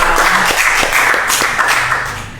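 Audience applause after a call for clapping at an inspirational talk event, a dense wash of hand claps with a few sharper individual claps, loud and close, tapering slightly at the end.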